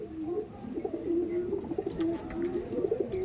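Andhra pigeons coo in a low, rolling murmur, several birds overlapping in steady bubbling phrases close by, with faint rustling behind them.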